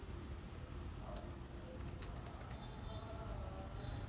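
Keys clatter on a computer keyboard as text is typed, a quick burst of close crisp clicks followed by a few scattered taps over a steady background hiss.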